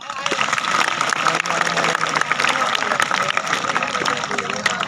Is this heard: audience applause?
yes